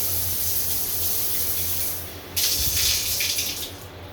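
Water from a shower head sprays hard at full pressure, fed by a small pressure pump in a bathroom, a steady rushing hiss that surges louder partway through.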